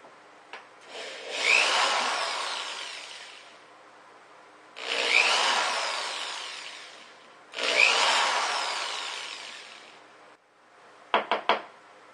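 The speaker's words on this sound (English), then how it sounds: "now I'm gonna drill the holes in the cap for the shower head" Power drill boring small holes into a PVC cap for a bucket camp shower head, three separate whirring bursts of a couple of seconds each, close and fairly loud, ending with a few quick clicks.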